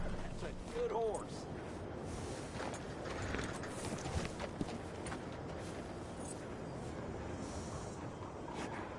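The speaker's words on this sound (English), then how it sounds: "That's a good horse." Quiet, steady clip-clop of horse hooves walking in a video game, with a faint snort and soft background ambience.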